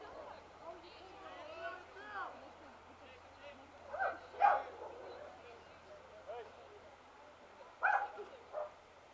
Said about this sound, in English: a dog barking in the background.